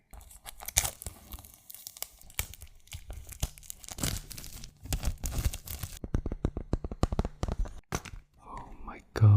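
Packaging being torn open and crinkled during an ASMR unboxing of candy-themed items, close and crisp with irregular ripping bursts and a fast run of short tearing strokes, with soft speech in between.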